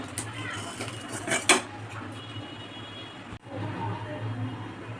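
Metal pot clatters and scrapes as cooked moong dal is poured out, with a few sharp clinks and a brief bang, then a softer ongoing kitchen rumble.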